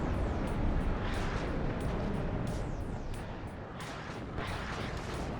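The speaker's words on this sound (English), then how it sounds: "Artillery coming in on that building" Artillery shells striking a building in the Cold War strategy game WARNO: a continuous heavy rumble of blasts and crashing debris, dense and sustained for several seconds, with no talking.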